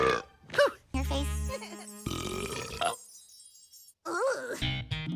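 Several voiced burps from a cartoon-style character mix with groaning, moaning vocal sounds, loud and up close, with bits of speech-like voicing between them.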